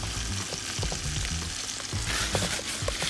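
Thick dough batter for a savory cake being stirred hard in a bowl, a continuous wet, rhythmic churning and scraping up close, with no voices.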